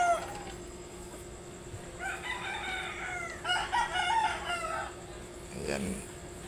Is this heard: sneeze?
no